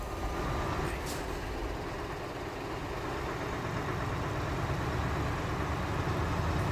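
Truck engine in Euro Truck Simulator 2, an Eddie Stobart truck rounding bends, a steady loud droning rumble running throughout with no break.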